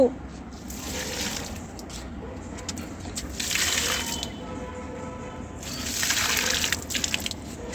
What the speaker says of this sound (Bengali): এই যে গাছে জল দিচ্ছে চিনি